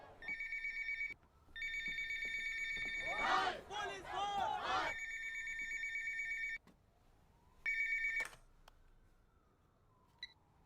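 A phone rings in steady electronic trills, pausing and repeating, with a burst of loud shouting cutting in over one ring.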